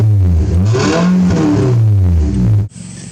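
A car engine running with the mufflers removed, loud and close with a deep, throaty rumble that swells through a rev before cutting off abruptly near the end, leaving a quieter hum.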